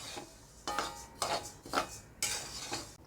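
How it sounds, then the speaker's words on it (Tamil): Moong dal dry-roasting in a pan, with repeated scraping and stirring strokes of a utensil against the metal and a dry rattle of lentils in several bursts, close by and moderately loud. "நிதானமாக பொன்னிறமாக வறுத்தெடுக்கணும்."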